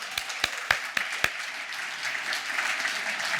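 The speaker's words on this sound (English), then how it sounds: "just a round of applause" An audience at an annual dinner claps together, opening with several sharp, distinct claps before settling into a steady moderate round of applause.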